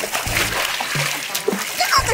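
A child kicks legs in a swimming pool, sending out repeated uneven splashes and sloshing close by, with brief voices mixed in.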